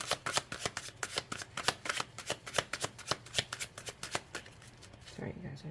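A deck of cards being shuffled close up at a table, a steady run of crisp riffling bursts that ends with a softer shuffle and low rustle.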